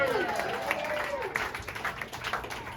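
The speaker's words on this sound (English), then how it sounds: "a round of applause for KC Carr right here" An audience at a Nashville poetry party claps for KC Carr in a short burst of applause, with a voice heard briefly over the clapping at the start.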